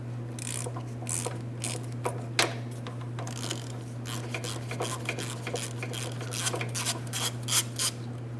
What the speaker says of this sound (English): I have to make my way down here with a 13 millimeter. I'm going to be turning this counterclockwise so I can remove that.